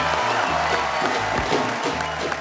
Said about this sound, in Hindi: एक रिश्ता साझेदारी का की पूरी टीम के लिए जोरदार तालियां